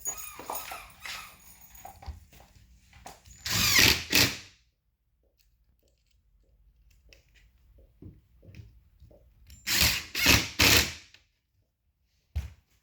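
A power drill driving black screws into a wall cabinet, two short whirring bursts several seconds apart, close and loud, with quiet handling noises between them.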